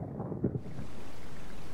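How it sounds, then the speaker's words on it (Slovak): Rain sets in within a cartoon parody scene, rising into a steady, even hiss of falling water after a brief low rumble and some faint scattered sounds at the start. "Asi začína pršať"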